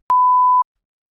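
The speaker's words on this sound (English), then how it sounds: "it's that familiar bleep sound" A single flat-frequency electronic bleep, one clean steady tone lasting about half a second, loud and isolated against silence.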